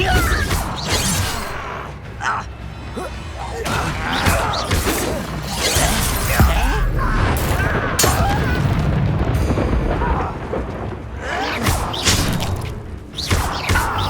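In the Hogwarts Legacy video game, a Depulso force spell is cast amid loud, dense combat effects: heavy booms, crashes and whooshes overlap continuously with layered game sound.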